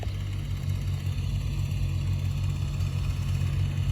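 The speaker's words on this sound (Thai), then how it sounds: "ถ่ายรถไถครับ รับงานปัดนาครับวันนี้" A farm tractor's engine drones steadily while working a rice paddy, a constant low rumble at close range with no voices.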